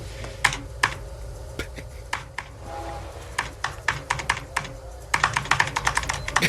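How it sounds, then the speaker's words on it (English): Fingers tap on a computer keyboard in a Star Trek scene, irregular clicky keystrokes close up, sparse at first and then quickening into a denser run of typing toward the end, with no speech. "He's all typing all funny with his fingers."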